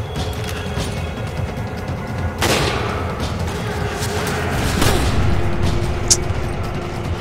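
Gunfire in the video game Resident Evil 5 shows as a few sharp shot bursts over a dense, loud rumble of game noise and action, with the shots not standing out much from the background.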